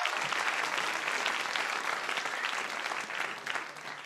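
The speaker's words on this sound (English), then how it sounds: "on technical applause tonight, we have our token man, Ian McLaughlin, behind the scenes, giving us some whoops and some cheers" A steady wash of dense applause plays as a sound effect during a live improv comedy show for International Women's Day, holding at full level for about four seconds before dipping slightly near the end.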